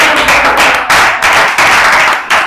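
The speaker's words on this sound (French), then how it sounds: "Tu peux applaudir pour le Seigneur." Church congregation clapping loudly and close, a dense sustained burst of many hands with rhythmic surges roughly every half second to second, no talking.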